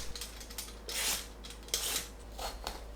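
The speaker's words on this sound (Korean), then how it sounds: "껍질을 벗겨내세요. 감자 칼을 사용하면 쉽게 손질할 수 있습니다." A vegetable peeler scrapes the skin off an old, mature cucumber in three quiet, rasping strokes spaced about a second apart over a low, steady hum.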